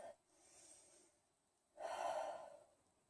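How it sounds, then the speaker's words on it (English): Deep breathing during a yoga session: a soft exhale, a pause, then a fuller, louder breath of about a second, close to the microphone with no talk over it. "One more deep breath"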